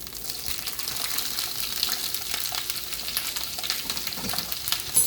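Chopped bell peppers sizzle and crackle steadily in a hot frying pan, a dense, continuous hiss with small pops and occasional stirring, close and fairly loud with no talking.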